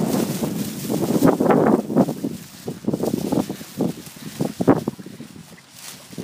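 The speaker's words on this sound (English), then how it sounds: "sorry about the wind in the background" Gusts of wind buffet an uncovered microphone outdoors, producing loud, irregular low rumbling bursts that rise and fall for several seconds.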